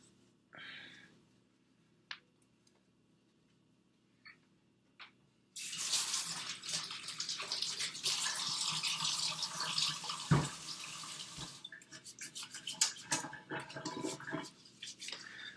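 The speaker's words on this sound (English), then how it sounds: "I'm gonna wash my hands. So let's wash our hands. Here's my sink again." Hands being washed under a running kitchen sink tap before bread-making: a few faint clicks and drips, then the water gushes on and runs steadily, splashing and sputtering as the hands move through it.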